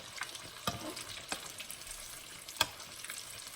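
Chile toreado frying in oil in a pan, a soft continuous sizzle broken by a few sharp pops and spatters, close and fairly quiet with no one talking.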